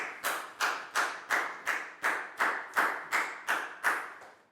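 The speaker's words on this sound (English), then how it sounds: "Big round of applause for Lakau," A classroom claps in unison, about eleven sharp, evenly spaced claps in a steady rhythm, close and clear with no talking between them.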